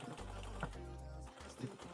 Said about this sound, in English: My next update is as we're doing this edge stitch.